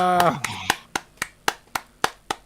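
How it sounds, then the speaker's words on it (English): In a radio studio after a rock and roll song, a brief voice gives way to steady, evenly spaced hand claps, sharp and close, about four per second, continuing alone. "still clapping"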